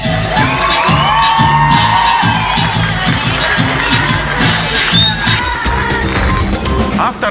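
A loud crowd cheers and whoops over a thumping rhythmic beat after a dance performance, with noise rising and falling throughout.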